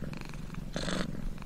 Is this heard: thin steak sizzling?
no